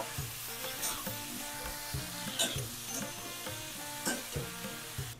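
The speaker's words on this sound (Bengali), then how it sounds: "এখন হচ্ছে সবজি আর আলু এগুলো একটু হালকা করে ভেজে নেই" Vegetables and potatoes lightly frying in a pan for a Bengali snake gourd and hilsa curry, with a steady close sizzle and occasional stirring scrapes, no talking.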